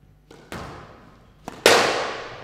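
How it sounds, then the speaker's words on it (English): A squash ball struck hard into the tin at a 2019 professional squash match, giving sharp percussive cracks followed by a loud, ringing metallic thump that decays in the court. "he's thumped another one in the tin."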